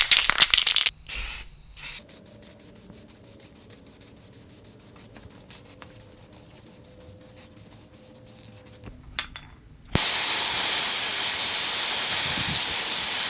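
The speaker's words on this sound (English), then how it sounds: "I'm actually using Rust-Oleum clear, crystal clear enamel." A spray can of Rust-Oleum crystal clear enamel coats car wheels. Loud hissing bursts sit over a low mechanical hum, then a sustained, intense spray runs to the end. No one speaks.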